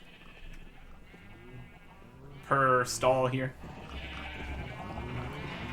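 Two loud sheep bleats in the Minecraft video game, close together and clearly up front, over someone talking quietly before and after them.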